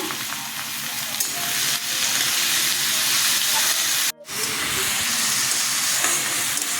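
Chopped tomato with salt fries loudly in a pan, a strong steady sizzle and hiss that cuts out briefly for an instant, then resumes. No one speaks.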